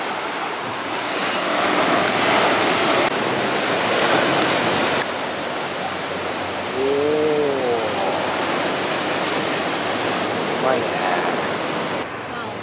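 Ocean surf rolls onto a beach in Rio de Janeiro at dusk, a steady loud wash of breaking waves with a brief faint whistle-like tone partway through.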